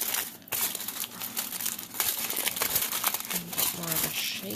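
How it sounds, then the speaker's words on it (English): Tin foil is crumpled and wrapped around a cotton Halloween cat ornament form, giving close, steady crinkling and rustling with sharp crackles throughout. "I'm going to grab a little more tin foil and wrap that around here."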